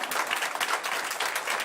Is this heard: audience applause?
yes